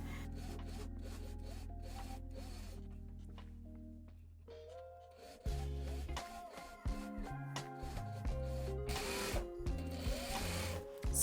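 A sewing machine stitches organza onto a tea towel, running in a steady mechanical hum at first, then switching to uneven bursts of stitching with rising, variable motor tones.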